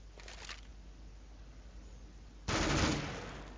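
Shotgun fire in the game CS:GO during a tournament match: a faint early blast, then after a quiet pause a much louder, sharp report that decays slowly.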